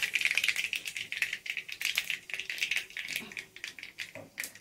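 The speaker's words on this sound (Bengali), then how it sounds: "কালো সরষে ফোড়ন দিয়ে দিয়েছি।" Black mustard seeds splutter in hot oil in a karahi with bay leaves, a quiet, rapid crackle of dense popping bursts that continues without pause and without voices.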